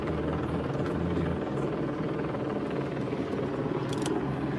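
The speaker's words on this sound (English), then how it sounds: "They're comfortable in their little helicopter" A news helicopter flies overhead with a loud, continuous rotor thrum at a street scene, steady and dominant throughout.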